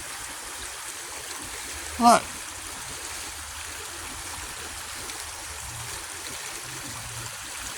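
Coldwater Creek flows in a steady, soft outdoor rush of water that continues throughout, while a voice speaks one brief word near the start.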